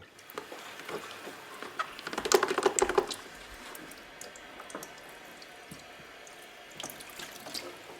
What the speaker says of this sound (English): Another final rinse.